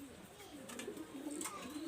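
Soft, low pigeon cooing repeats through the short clip, close by, with faint chirps and a little background noise.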